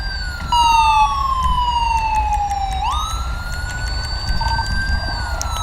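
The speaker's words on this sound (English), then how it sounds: "I'm gonna cut my siren." A California Highway Patrol police car's siren wails loud and close in a steady rising and falling sweep, changing pitch partway through, with a low engine rumble underneath.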